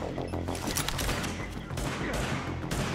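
Explosions and heavy gunfire in the shooter game The Division, a series of sharp blasts and rattling bursts layered densely over about three seconds.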